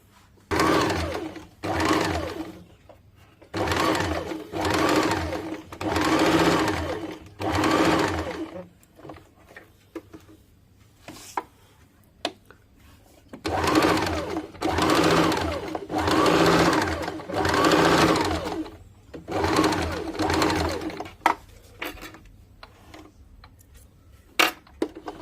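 Sewing machine stitching a blouse, several sustained runs of rapid needle clatter separated by brief pauses, close and loud, with no talking.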